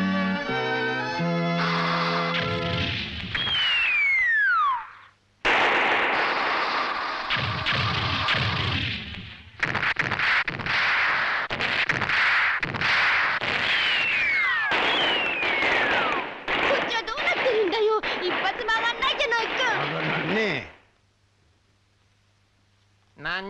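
Cartoon fireworks in an anime comedy scene burst repeatedly among whistling rising and falling tones, crashes and a busy soundtrack, loud and dense under frequent character voices, ending in a brief near-silence.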